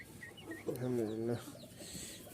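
Fancy-breed chicken chicks are being packed into a basket for delivery. One loud, drawn-out peeping call rises over faint scattered chirps in a quiet setting.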